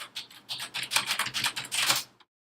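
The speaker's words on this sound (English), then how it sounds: "click connect and type in our password" Rapid typing of a password on a computer keyboard, a close, steady flurry of light key clicks for about two seconds, then silence.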